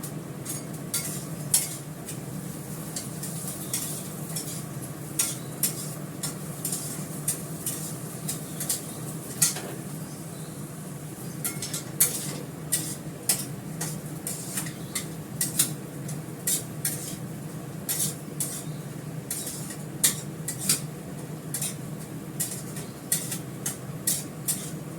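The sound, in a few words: frying and stirring lentils with cumin in a pan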